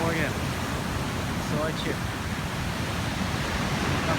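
Stormy sea surf pounds the shore at Sochi in snowy winter weather, a loud, continuous roaring wash with gusts of wind while someone briefly speaks over it.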